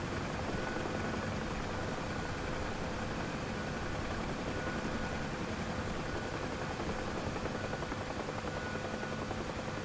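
A UH-1H helicopter in DCS flies with a steady, dense rotor and turbine roar that stays constant and fairly loud throughout, with no talking.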